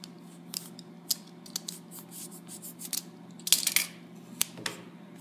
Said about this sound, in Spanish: tomamos un pedazo de cinta aislante y cortamos un tramo suficiente para darle una o dos vueltas a la pluma